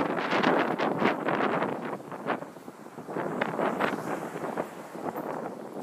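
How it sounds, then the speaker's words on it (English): Gusty wind buffeting the microphone outdoors in Brooklyn on a hot day, a continuous rough roar surging and easing over a few seconds. "It's kind of windy."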